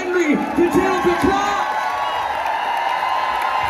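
Concert crowd in Munich's Muffathalle at a show, a dense wash of cheering and whoops with scattered shouts, loudest in the first second and a half, then a sustained roar of voices.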